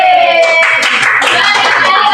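Schoolchildren in a classroom perform a teacher-led clapping chant at the end of a lesson, loud voices chanting together in a sing-song line with claps mixed in, close and dense throughout.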